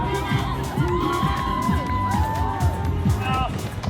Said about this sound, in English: the people cheering for us. And those cheers are just so cool.